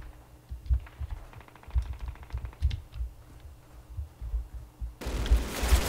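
Machine gun fire in the original Call of Duty campaign comes as muffled, repeated low thumps in uneven bursts, moderately distant, mixed with light keyboard clicking and ending in a sudden louder wash of noise.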